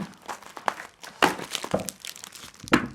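A parcel wrapped in bubble wrap is pulled open close up, with crinkling plastic and rustling packaging, sharp crackles and tearing bursts coming in uneven handfuls.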